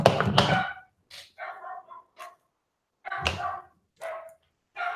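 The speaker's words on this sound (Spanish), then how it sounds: "Perdón por aquí los perros que están ladrando" Dogs barking nearby in short bursts, several sharp yaps separated by brief pauses, no talk over them.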